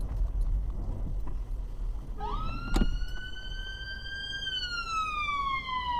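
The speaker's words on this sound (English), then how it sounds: "the emergency service vehicle approaching" An ambulance siren rises in, holding a loud steady wail heard from inside a car on the road, then dipping in pitch as it passes, over constant engine and road noise.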